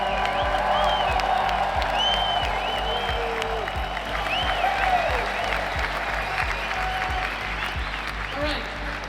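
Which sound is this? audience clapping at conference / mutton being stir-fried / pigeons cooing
audience clapping at conference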